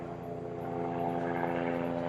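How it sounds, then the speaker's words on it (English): A helicopter passes overhead, its steady rotor drone and harmonic engine hum rising slightly as it draws closer, heard alone with no talking. "there's a helicopter flying over, leaving Goldman speechless for once."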